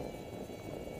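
An RC plane with an NTM Prop Drive 2836 2700kv motor cruises at half throttle, giving a faint, steady propeller whine and buzz that sounds distant and continuous for about a second.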